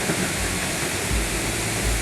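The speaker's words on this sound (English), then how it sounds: "Kind of cool the way the water hits down there." Multnomah Falls in Oregon pouring down and crashing onto the rocks below, a steady, loud, broadband roar of falling water that fills the whole stretch with no talking.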